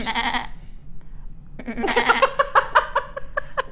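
A man imitates a sheep with his voice, giving a short bleat, then a pause and a longer wavering, quavering bleat, loud and close.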